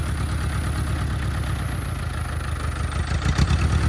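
An Oliver Cletrac OC3 crawler tractor engine idles steadily and close by, a continuous low rumble with a faint high whine, with no voices.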